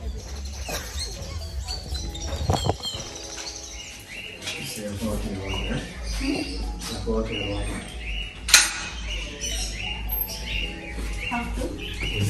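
Birds chirp at a zoo during a bird feeding, with scattered short tweets amid background voices and the bustle of an outdoor crowd.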